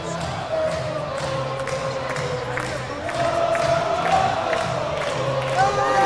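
A basketball crowd at the Sarachek 2022 high school tournament game between Valley Torah and MTA cheers during a timeout, a steady indoor roar that swells louder partway through.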